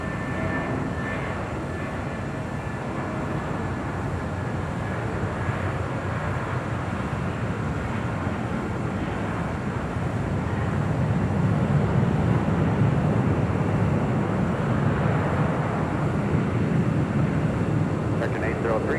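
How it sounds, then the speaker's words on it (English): An American Airlines Airbus A319, formerly with America West, rolls down runway 25 right at Los Angeles International for takeoff, its engines a steady rumbling roar that builds toward the end, heard beneath a commentator talking. "we should have that American A319, originally with America West, heading to St. Louis, flight 803, now rolling down 25 right"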